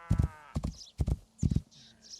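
Horse hooves clip-clop in the video game Rising World, four or so crisp close hoofbeats falling in quick uneven pairs, with faint background noise between them.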